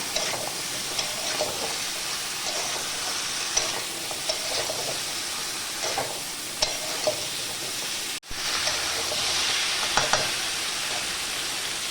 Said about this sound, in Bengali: নাড়াচাড়া করে আবার সবজিটা ভাজছি